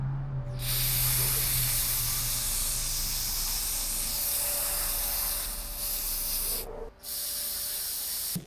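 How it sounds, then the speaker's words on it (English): Brake cleaner sprayed in a long, steady, close hiss onto a car's oil drain plug during a winter oil change, running for several seconds and ending in a brief pause and a final short burst. "you can use this brake cleaner for other cleaning purposes. Take this and clean the drain plug basically."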